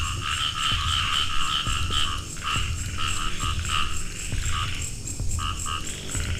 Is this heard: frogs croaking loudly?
yes